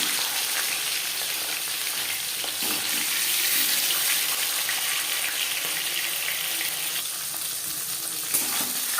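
Marinated puti fish frying in hot oil over a high flame, a steady loud sizzle and crackle that runs unbroken through the whole stretch, with a few sharper pops and spatters along the way and no voices.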